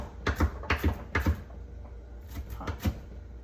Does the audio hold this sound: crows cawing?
no